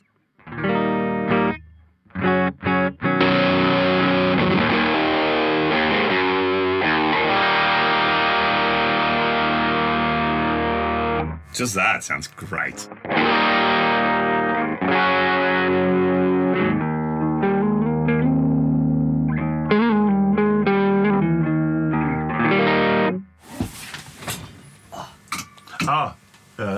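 A Fender Jazzmaster electric guitar played through a Keeley Electronics Oxblood overdrive pedal, loud sustained distorted chords and riffs with brief pauses and short bursts of talk between phrases.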